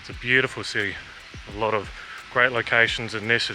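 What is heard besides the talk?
No everyday noises stand out.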